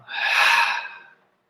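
A big open-mouthed exhale during guided meditation breathing: one breathy whoosh that swells quickly, holds, then tapers away over about a second, close and clear with no talking.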